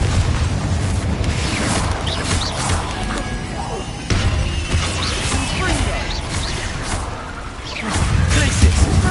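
Spell explosions in Hogwarts Legacy, rapid crashing bursts and magical impacts piling up over a busy combat soundscape, with a voice shouting spell names throughout.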